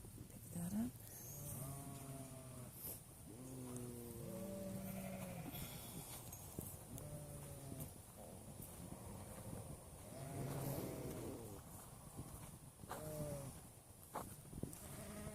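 Several sheep bleat repeatedly in a flock at feeding time during drought, calls overlapping near and farther off with quiet pauses between bursts, no talking.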